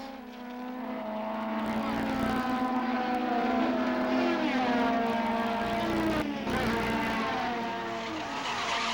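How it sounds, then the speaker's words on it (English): 1975 Formula Atlantic race cars howl past on a circuit, a loud rising and falling engine whine sweeping by with shifting pitches as several cars pass in succession. "There goes number 95, Quebecer Reg Scullion."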